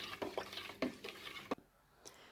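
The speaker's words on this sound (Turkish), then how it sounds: "Şimdi bunu güzelce karıştıralım" Water being stirred in a pot to dissolve something, soft scraping swirls and a few light clinks of a spoon against the pot, quiet and close, no talking.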